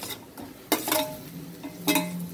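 Fried brinjals tipped into a pan of cooked masala and stirred for a vankaya curry, giving a few clinks and scrapes of a spoon against the pan over a soft sizzle.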